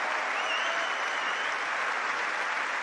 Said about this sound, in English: you can cut the applause